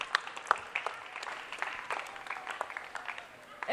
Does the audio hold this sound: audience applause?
yes